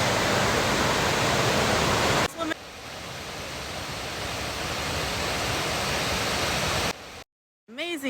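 A waterfall at a swimming spot on the Appalachian Trail roars as steady, dense broadband rush, loud and close, shifting to a softer distant wash midway before a brief cut and a few spoken words at the end.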